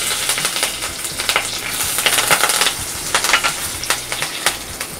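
Mustard seeds spluttering and popping in hot oil for pepper rasam, a busy crackling sizzle with scattered sharp pops spread evenly throughout, fairly close and moderately loud with no voices.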